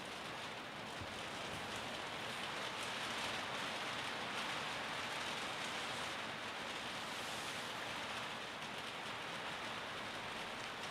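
Steady rain falling outside, a dense, even hiss of drops on surfaces that holds at a constant level throughout, fairly close, with no voices heard.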